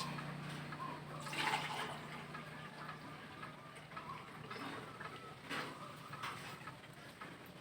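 Water is poured into a Camel water dispenser that has suddenly stopped working, a fairly faint, rushing splash that surges in a couple of stronger bursts over steady background noise, with no talking.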